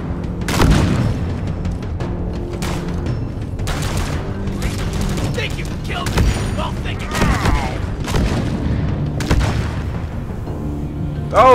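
Deployed sentry guns in Deep Rock Galactic fire in rapid repeated bursts, booming shots and crackling volleys running throughout amid loud combat noise.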